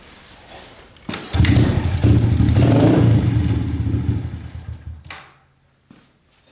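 A cold 110cc engine catches abruptly, runs with a loud, rough clatter for a few seconds, then fades and dies away to near silence.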